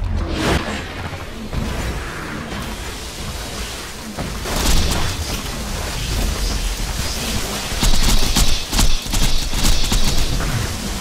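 Grenade blasts erupt in Borderlands during a Maya solo run on Digistruct Peak, dense booms and whooshing debris piling over constant game noise, with heavier bursts midway and near the end.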